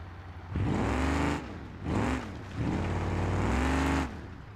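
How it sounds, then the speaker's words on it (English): A 1968 Dodge Charger V8 engine in BeamNG.drive revs loud and close in three surging bursts, the harmonics climbing and falling with each push of the throttle and a steady idle rumble between them. "Okay, I can't rev the motor any higher."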